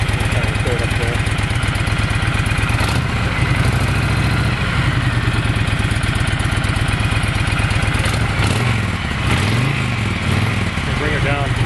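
A 2006 Honda VTX 1300R motorcycle idles with a steady, throbbing exhaust rumble close by, continuous throughout, with talking over it.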